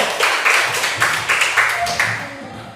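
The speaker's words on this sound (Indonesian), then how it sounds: "tepuk tangan, ayo" Students in a classroom clap together in short rhythmic bursts, fairly close and loud, with a voice talking briefly near the end.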